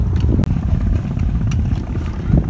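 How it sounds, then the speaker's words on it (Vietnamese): Strong wind buffets the microphone by the sea at Thạnh An, a dense, rumbling roar with brief gusts and a sharp dropout, loud and continuous with no speech. "gió ở đây khá là rít"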